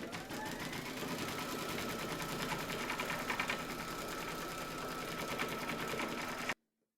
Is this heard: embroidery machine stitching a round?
yes